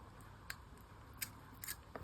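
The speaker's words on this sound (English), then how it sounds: "And just trim a section." Scissors trimming jewelry wire make a few quiet, crisp snips, about four sharp clicks spaced irregularly over low, faint background noise, close up and without talk.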